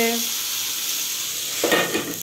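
Pumpkin sizzles steadily in a hot pan for a couple of seconds, close by, with a brief clink of a utensil near the end.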